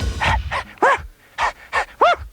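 A cartoon dog lets out six short, yelping howls in two groups of three, each rising and falling in pitch, loud and close with brief gaps between them.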